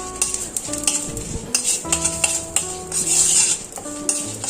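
Panch phoron and dried red chillies being stirred in a pan, with loud metallic spoon scrapes and clanks against the pan over a faint sizzle, close and irregular.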